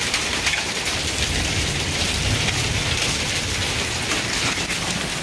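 Hail falls in a severe storm, a dense, unbroken patter and hiss of stones striking surfaces, steady and fairly loud throughout with no talk.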